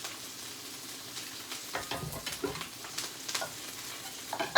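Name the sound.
Brussels sprouts frying and sizzling in oil while stirred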